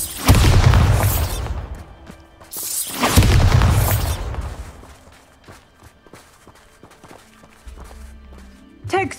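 Two heavy booming blasts of the Bombarda spell in Hogwarts Legacy, each a loud deep burst with crackling debris, followed by quieter footsteps, scattered impacts and a low hum.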